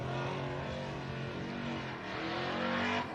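Race truck engine at the Gundy 500 passing by, a steady loud roar of motor and road noise that swells slightly toward the end, with no talk over it.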